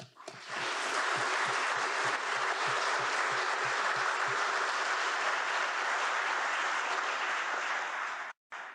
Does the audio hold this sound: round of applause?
yes